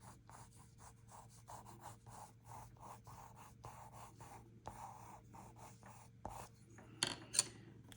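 Watercolor pencil drawn across paper during a watercolor landscape, giving steady soft scratchy strokes in a quiet room, with a few sharper scrapes near the end.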